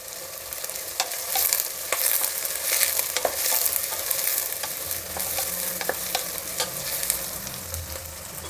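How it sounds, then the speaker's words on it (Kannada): Butter sizzling in a frying pan before broad beans go in for usli, a continuous close crackle and hiss with scattered spatter pops and light stirring, no voices. "ಬೆಣ್ಣೆ ಹಾಕ್ತಾಯಿದ್ದೀನಿ"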